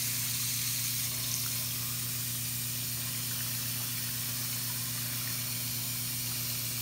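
Hot water runs steadily from a sink tap onto a plastic container to soak off a paper label, a continuous close hissing spray with a low hum underneath and no talking.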